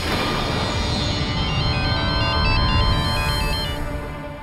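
A phone rings with a melodic electronic ringtone, loud and continuous throughout, repeating its short tone pattern over a dense background in a TV drama scene.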